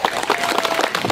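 A small group claps at a beach gathering in Darłowo, Poland, brisk and close, with individual claps distinguishable in an uneven, lively rhythm.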